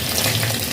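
Bay leaves frying in hot oil with cumin seeds, a brief close crackling sizzle, steady and fairly loud with no voices.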